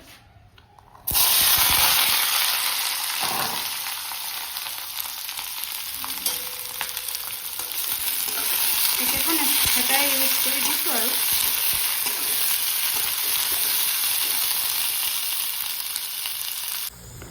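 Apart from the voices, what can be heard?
small potatoes and beans frying in a wok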